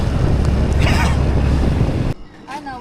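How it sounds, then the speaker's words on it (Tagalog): Strong wind buffets the microphone with heavy low rumbling gusts for about two seconds, then drops away abruptly as a voice speaks over quieter air. "Lakas ng hangin."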